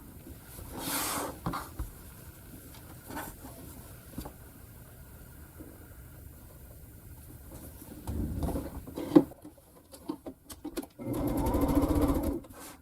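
A sewing machine stitches pink scrappy quilt block pieces in two short runs near the end, fairly close, after a quiet stretch of soft handling sounds.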